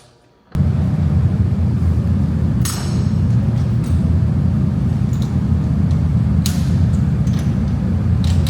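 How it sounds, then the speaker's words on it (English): Race car parts being bolted back together in a workshop after a failed tech inspection at the Nurburgring, with a steady loud low rumble and a few sharp metallic clinks and knocks scattered throughout. "start bolting everything back together in the car"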